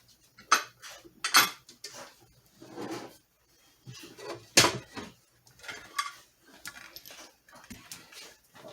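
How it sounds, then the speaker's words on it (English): Metal lid set onto a pressure canner holding nine jars, with a series of close clanks, scrapes and rattles spread out, separated by brief quiet pauses. "And I'm going to put the lid on."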